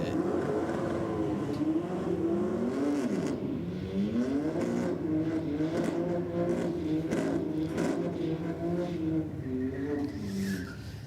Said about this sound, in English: little Euro spec BMW. Sounding quite nice on the burnout.